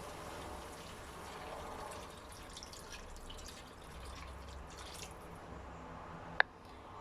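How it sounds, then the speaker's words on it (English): Two cups of water pour steadily into a pot of chicken soup for several seconds, ending with a single sharp clink. "Now I'm going to pour in 2 cups of water."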